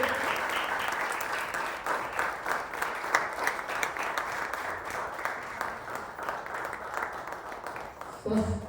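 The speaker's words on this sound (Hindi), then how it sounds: "तालियां बजती रहनी चाहिए।" An audience applauds after a Kathak dance performance at a gymkhana venue, sustained dense clapping that holds steady for several seconds with a slight swell near the end.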